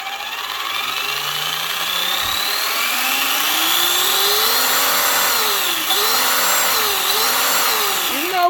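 A Traxxas Rustler 4x4 RC truck with a brushed electric motor and waterproof servo whines steadily under throttle, its pitch rising and dipping as the motor speeds up and eases off, loud and close with no talking.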